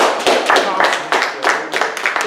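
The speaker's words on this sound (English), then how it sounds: "I want you all to give yourself a round of applause" A small group in a room claps briefly, a few seconds of close, uneven hand claps with voices mixed in.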